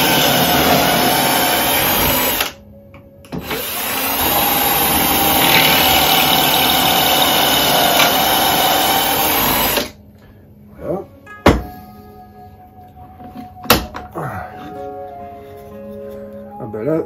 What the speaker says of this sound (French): Et je perce.